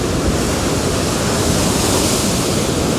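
Huge ocean swells roll in and crash at a coastal spot, a dense, loud, continuous roar of surf with wind noise buffeting the microphone.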